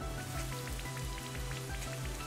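Rain summoned by Raikou's Rain Dance in a Pokémon Brilliant Diamond/Shining Pearl battle patters steadily and evenly, a continuous rainfall effect with a repeating low pulse beneath and no talking.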